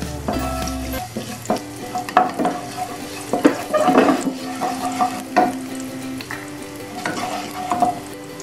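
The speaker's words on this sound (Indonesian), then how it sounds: "kita panaskan minyak tumis bawang putih" Garlic sautés in hot oil for Indomie carbonara, a steady close sizzle broken by repeated stirring scrapes and clinks of a utensil against the pan, with no talk.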